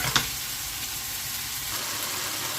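Beef steak browns in a hot pan for a steak and mushroom pie, giving a loud, continuous close-up sizzle with one brief clink at the start and no talk.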